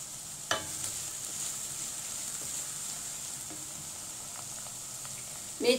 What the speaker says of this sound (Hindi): प्याज फ्राई हो रहे हैं और इसमें शामिल करेंगे अदरक और लहसुन। इसको भी हल्का सा फ्राई करेंगे।